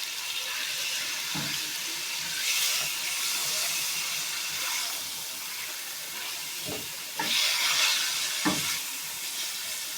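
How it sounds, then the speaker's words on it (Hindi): Marinated chicken fries in hot oil in a pan, giving a steady broadband sizzle with a few soft bumps and clinks from stirring over about ten seconds. "चिकन को अच्छी तरह से फ्राई करके रख लेते हैं"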